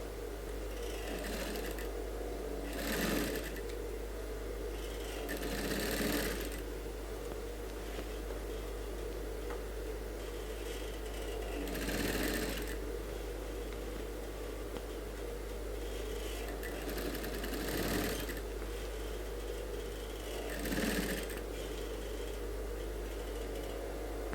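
A sewing machine stitches a suit sleeve with a steady close whirring run, swelling in short louder surges every few seconds over a constant low hum.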